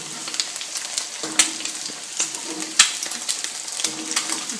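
Eggs sizzle and crackle in a frying pan, with a continuous bright hiss punctuated by sharp pops and occasional scraping of a utensil, heard close with no speech.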